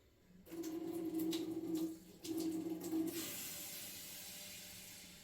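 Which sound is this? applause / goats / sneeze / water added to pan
water added to pan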